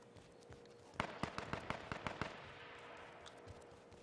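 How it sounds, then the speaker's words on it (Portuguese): Gunfire in the battle royale game H1Z1 comes as a quick run of about ten sharp shots in rapid succession, fairly faint, followed by low rumbling ambience and a final distant pop. "Vou dar um tiro com os caras aqui."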